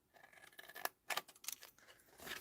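Scissors snipping through card while trimming off the back flaps of a gift box, a string of crisp, close cuts in quick uneven succession, fairly quiet with no talking.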